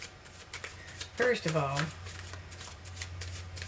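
Tarot cards being shuffled by hand, a steady papery riffling that runs through the whole stretch while a person talks briefly over it.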